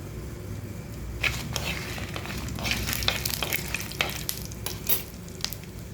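Peanuts fry in a spoonful of hot oil in a pan for a mint chutney, giving a continuous sizzle broken by several sharp stirring scrapes and clinks.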